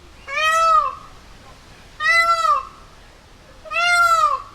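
Three distinct meows from a cat at a zoo, evenly spaced about two seconds apart, each a clear harmonic cry that rises and falls, fairly close with quiet background between calls.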